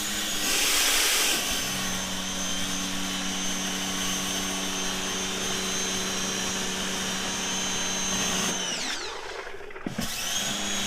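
A Ryobi 12-inch surface cleaner on a 1.4 gallon-per-minute pressure washer roars with a steady high whine and spray hiss, loud and close, then the motor cuts out and drops near the end.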